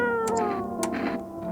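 A video-game cat meows several times as it is petted, short tonal calls with rising and falling pitch over a steady background hum, close and clear.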